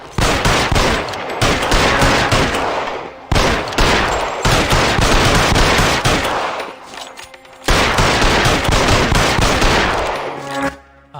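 Loud bursts of gunfire from the video game L.A. Noire, rapid shots in dense volleys with short pauses between three long firing stretches.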